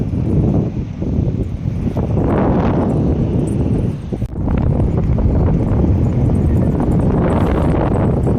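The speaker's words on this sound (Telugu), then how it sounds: "అబ్బో ఈ చల్లటి గాలి," Strong wind buffets the microphone in a loud, continuous roar, rising and falling in gusts with a brief lull midway.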